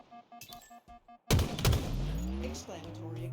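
A sudden loud burst of gunfire erupts in a tactical shooter match on the Snakebite map, followed by ringing game sounds and echoing effects; quieter beeps precede it while a commentator talks.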